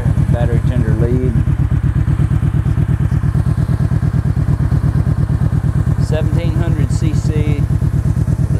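A Kawasaki Vulcan Voyager 1700cc motorcycle with a six-speed and Vance & Hines exhaust idles steadily up close, its loud even low rumble running throughout while someone talks over it in two stretches.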